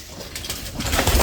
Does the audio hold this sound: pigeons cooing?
yes